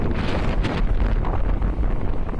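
Strong wind buffeting the microphone while riding an Eahora Tiger Max e-scooter, a loud continuous rumbling roar with no talk.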